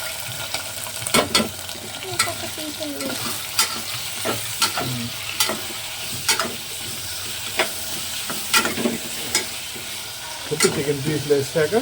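Chicken pieces fry in ghee in a pot for homemade haleem, giving a continuous soft sizzle. Stirring scrapes and clinks recur every second or so, with no voices.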